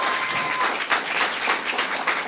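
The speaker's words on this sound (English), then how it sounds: "So let's give a round of applause for that." An audience at a multigenerational forum breaks into applause, a dense, even wash of clapping that fills the room for a couple of seconds.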